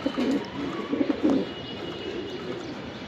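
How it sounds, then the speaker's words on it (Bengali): A racing pigeon, a hen raced with a limited club, coos in a steady run of low, throaty pulses that sound close and fairly loud, with faint chirps and no one talking. "মাদিটা হলো লিমিটেড ক্লাব থেকে রেস করা একটা কবুতর"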